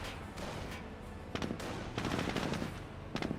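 G43 rifles firing at a Jeep during a Company of Heroes battle: rapid clusters of crackling gunshots in irregular bursts over a steady battlefield rumble, moderately loud, without speech.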